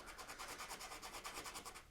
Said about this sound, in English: I'm going to just kind of rub it against the sanding paper a little bit